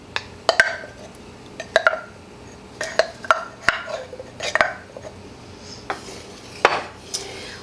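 A utensil scrapes and knocks against a pan while enchilada skillet ingredients are stirred, irregular metallic clinks and taps spaced a second or so apart, close and fairly crisp.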